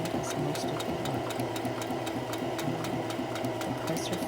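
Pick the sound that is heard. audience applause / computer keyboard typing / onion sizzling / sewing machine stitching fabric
sewing machine stitching fabric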